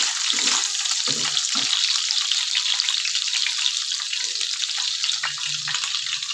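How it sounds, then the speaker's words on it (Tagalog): Sautéing in a pan for Ilocano dinengdeng, a loud continuous sizzle close up with occasional soft scraping and stirring knocks underneath, no speech. "Para makagisa tayo."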